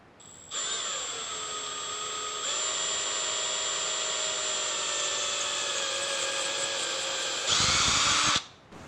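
A power drill bores a hole through wood while a dual-battery system is fitted in a Chevy Colorado. Its steady close whine runs for about eight seconds, then rises in pitch and loudness briefly before stopping, with no talking.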